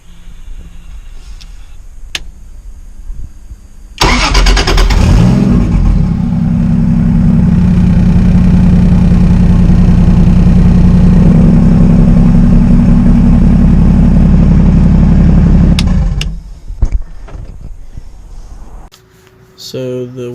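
A Toyota 1JZ VVTi engine swapped into a Nissan S13 cranks and fires, then runs at a loud steady idle for about twelve seconds before shutting off, with faint talk around it.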